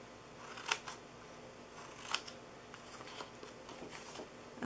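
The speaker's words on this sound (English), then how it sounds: "Okay, so now to cut this, we are going to cut this bottom corner off here." Scissors cutting a paper gift box template: a few crisp, close snips spaced a second or so apart over a quiet room hiss, fairly faint.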